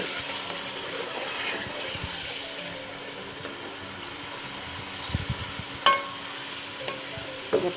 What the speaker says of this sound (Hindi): चिकन फ्राई करें।